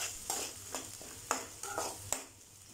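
Chopped green chilli, ginger and garlic sizzle softly in a pan while a spoon scrapes and stirs in a few quick strokes, close and quiet.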